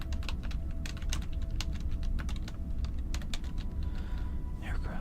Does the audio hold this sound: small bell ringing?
no